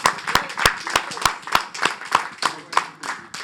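Scattered hand clapping from an audience at a Mother's Day celebration: uneven, overlapping claps at moderate volume, with faint voices underneath.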